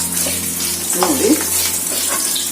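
Peanuts sizzle in a frying pan as they are stirred, with a steady close hiss and a soft scrape of the spoon.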